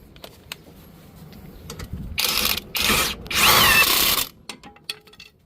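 A power tool zips a 19 mm nut onto a Toyota Camry front strut in three short, loud bursts of whirring rattle, separated by brief pauses, with quiet shop clatter before and after.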